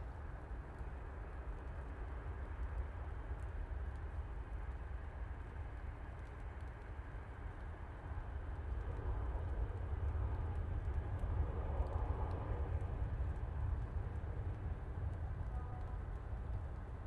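A Norwegian airliner on its approach into Manchester Airport after the flight in from Oslo, its broad, steady engine roar holding low and dense throughout and swelling slightly louder partway through as it passes nearer.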